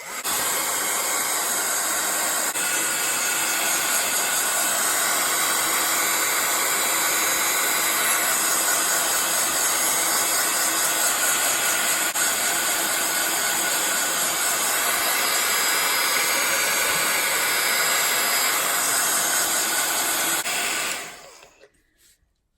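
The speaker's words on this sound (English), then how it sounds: "I'm just going to quickly dry these with my heat gun just to be sure that they are dry" A heat gun blows hot air to dry craft paper CD sleeves, producing a loud, steady, unbroken hiss and whir for about twenty seconds before it switches off and winds down.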